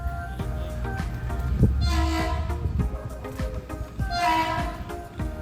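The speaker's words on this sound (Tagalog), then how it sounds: "Ayan na yung train." San Pablo train passing close by, a heavy rumbling roll with clanking wheels, and two loud horn blasts sounding over it, faint voices underneath.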